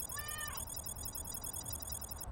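A cat gives a single short meow, close and fairly clear, over a steady background hiss and a high whining tone in a sound-replacement redo of a scene from The Incredibles.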